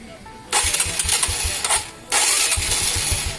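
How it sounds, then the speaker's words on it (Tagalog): Motorcycle engine cranked with its electric starter in two bursts, each a loud whirring crank with pulsing low engine putter, separated by a short pause. "So dahil napaandar na to kanina, itong electric starter."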